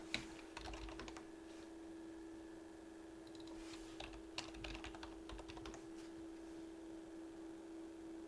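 Someone types on a computer keyboard in quick uneven bursts of clicks under a steady electrical hum, quiet and close with no talk.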